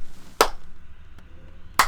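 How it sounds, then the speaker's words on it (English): Hands are struck together very hard, giving two sharp, loud smacks about a second and a half apart, with only a faint tap between them over low background noise. "this is the sound of me hitting my hands really hard"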